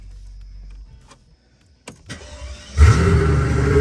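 A V12 car engine cranks and fires up, bursting into a loud, rough idle after a brief quiet whir, close to the microphone and with no talking.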